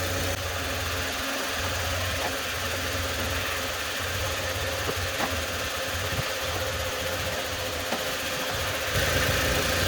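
A 2011 Toyota Tacoma's 2.7L four-cylinder engine idles steadily and loudly up close, a continuous even rumble with a slight knock throughout.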